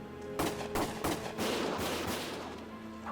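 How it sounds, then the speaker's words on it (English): Rapid gunfire in the Valkyria Chronicles video game: several sharp shots in quick succession, then a denser volley that fades, loud and with no talking. "Gunfire!"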